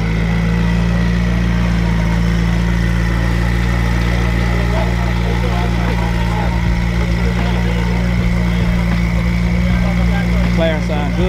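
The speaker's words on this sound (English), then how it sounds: "McLaren sound good, man." A McLaren sports car idles at an exotic car show, a steady low engine hum running throughout, with crowd chatter and voices mixed over it.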